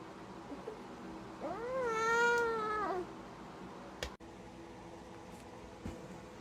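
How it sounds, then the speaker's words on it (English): One drawn-out, rising-and-falling meow from a cat, faint and near, followed by a soft click against quiet background noise. "It's starting to make some meowing sounds too"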